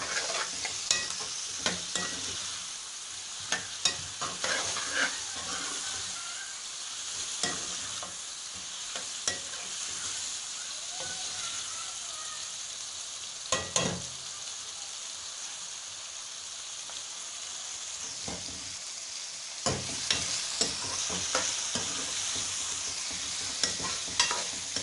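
Boneless chicken sizzles steadily with two medium onions in a handi, a continuous close frying hiss broken by frequent scraping stirs and clinks of the utensil against the pot.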